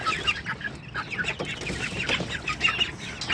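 Hens clucking around a feeder in a backyard coop, a busy chorus of close, repeated short clucks and chatter with no speech.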